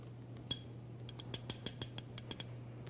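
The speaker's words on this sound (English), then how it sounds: "Put your ear in the empty glass and tap on it with the back edge of a knife." The back edge of a knife taps an empty drinking glass about ten times in a quick, irregular series, each tap a bright, close ringing clink. No one speaks.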